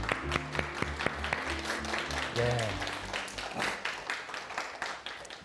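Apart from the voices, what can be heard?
audience applause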